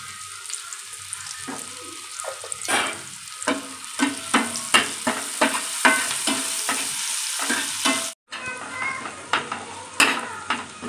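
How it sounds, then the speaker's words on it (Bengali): Sliced onion with a pinch of salt frying to a reddish brown in a pan, a steady loud sizzle broken by repeated scraping stirs, with a brief pause near the end. "পেঁয়াজটা আমার লাল লাল করে ভাজা হয়ে গেছে।"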